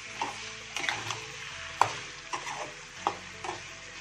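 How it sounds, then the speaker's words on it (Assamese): Pork meat stirred in a pot with no added oil or spices, producing repeated wet scraping and clinking strokes of a spoon against the metal, over a faint background sizzle. "ধুনীয়াকৈ মই মিক্স কৰি দিম আকৌ দেখিছে মাংসখিনি"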